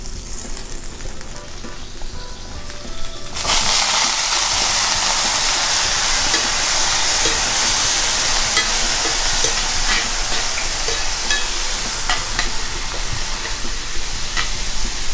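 Fresh apples dropped into hot butter in a pan, a loud bright sizzle bursting in after a few seconds of quieter background and holding steady and close, with no voices.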